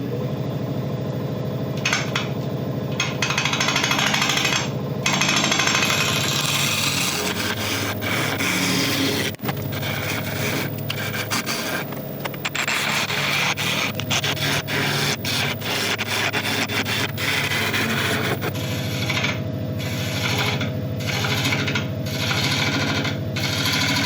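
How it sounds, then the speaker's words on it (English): A lathe tool scrapes resin from the outside of a spinning wood burl supported by a live centre, a continuous harsh rasping and rubbing with bursts of gritty chatter over the steady machine drone, loud and close. "putting a larger live centre in this end just to help give us a bit of support while we're scraping the outside and just clearing off all this resin"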